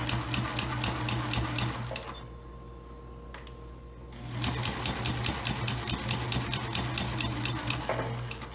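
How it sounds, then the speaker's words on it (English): A sewing machine stitches fabric for a baby blanket, its rapid close mechanical chatter running, pausing for about two seconds, then resuming steadily. "as I continue to sew, I'm going to remove the pins out of the way"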